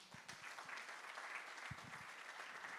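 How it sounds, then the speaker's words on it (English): Applause from a seated audience at a corporate sustainability report launch, steady dense clapping filling the whole stretch at moderate distance, with no voices over it. "A better round of applause to him"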